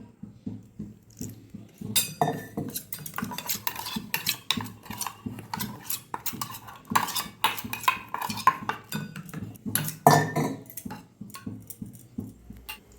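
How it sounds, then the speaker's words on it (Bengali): Spice powders, ground coriander and Kashmiri chilli powder, mixed with a little water in a bowl, with repeated clinking and scraping of a spoon against the bowl, close and fairly loud, in a steady stirring rhythm. "বাটির মধ্যে একটা মশলা গুলে নেবো।"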